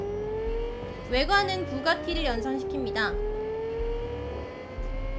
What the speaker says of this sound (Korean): 엔진음도 진짜 미쳤다.